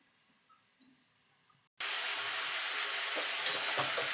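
Vegetables for a vegetarian katoar data chorchori cook in a pan; after a quiet stretch of faint outdoor chirps, a steady loud sizzle starts abruptly with a few stirring scrapes, no voices.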